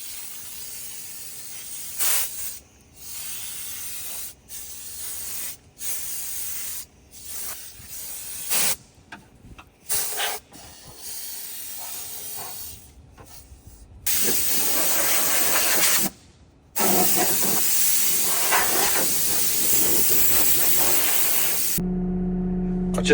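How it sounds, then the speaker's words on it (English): Compressed air from a workshop airline blasts dust out of a Kramer loader cab, loud hissing bursts that start and stop repeatedly before settling into a longer sustained rush. "Also going to get the cab just properly blown out, so that's all nice in there"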